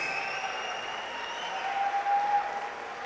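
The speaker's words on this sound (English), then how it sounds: "make some noise for Alan Hunt." A crowd at an MMA event applauds and cheers as a fighter is introduced, a steady wash of clapping heard at a distance, fairly faint, swelling slightly toward the end.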